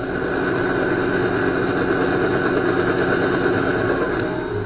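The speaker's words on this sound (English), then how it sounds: "That's right, it's a helicopter." Steady, loud mechanical drone with a low rhythmic chopping throb, continuous and close, like a helicopter hovering or flying nearby.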